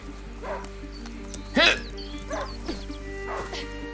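A hunting dog in A Plague Tale: Innocence barks four times at a steady pace, with one louder bark in the middle, over a constant low hum of game sound.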